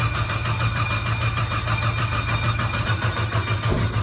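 A dry-sump Vauxhall Cavalier GSi classic touring car engine cranks over steadily at close range, a loud, continuous low churning with a rapid rhythmic pulse and no firing or catch, running alone without voices.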